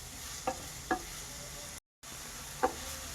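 Onions fry quietly in a pan for a dhaba-style aloo palak, a soft sizzle broken by three short scrapes of a stirring spoon, with a brief dropout in the middle.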